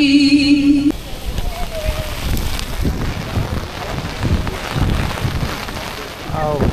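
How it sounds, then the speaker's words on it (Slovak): Strong wind buffets the microphone at an outdoor protest in Bratislava, Slovakia, a steady rough roar with gusts that follows a brief burst of singing, while voices murmur underneath. "ale fúka"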